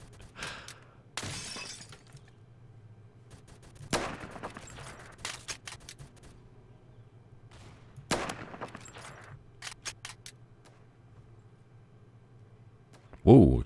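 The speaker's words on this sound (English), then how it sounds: "Whoa, explosions." Roblox Phantom Forces firefight with sharp, loud bursts of gunfire and explosions cracking out at irregular intervals over a quiet low hum, one especially heavy blast at the end.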